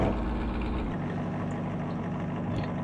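A video game car's engine idles with a steady, loud, low rumble that holds without a break from start to end.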